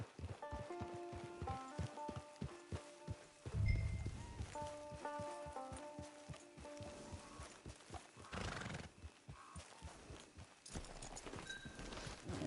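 Horse hooves trot in a steady clip-clop rhythm in the Red Dead Redemption 2 Online video game, close and clear under a musical score, with a brief loud whinny partway through.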